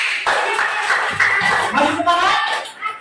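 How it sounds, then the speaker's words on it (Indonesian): Classroom group clapping for a team of students who just presented their discussion results, a loud burst of close applause mixed with voices and shuffling. "Tepuk tangan untuk kalian semua."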